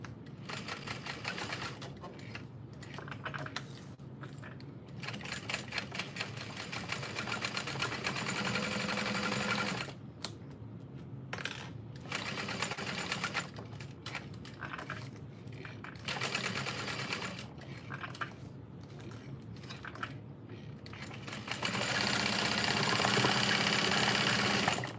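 A sewing machine top stitches a zippered bucket bag in long runs of rapid, steady needle chatter. Several short pauses break the stitching as the fabric is turned, and the sound stays close and fairly loud with no talk.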